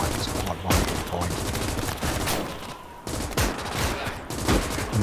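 Soldiers' rifle and machine gun fire in the Gates of Hell WWII strategy game pops in scattered volleys and sharp single shots, mixed with distant battle rumble, some bursts close and loud.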